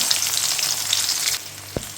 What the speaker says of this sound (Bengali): পেঁয়াজটা নাড়া চাড়া বাদামি করে ভাজা নেবো।